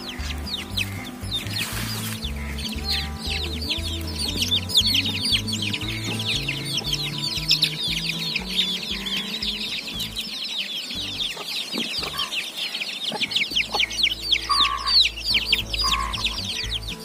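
A flock of chickens clucks and chirps busily nearby, a dense chatter of hens and chicks with no one talking.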